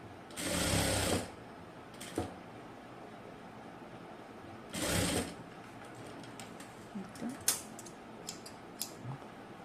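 A sewing machine stitching lace around a neckline in two short, close bursts of about a second each. Light clicks and fabric handling noises follow, over a low background hum.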